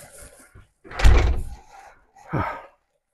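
Door being pushed shut in a room of Commodore PET computers, a heavy thud with rattle followed by a second softer knock.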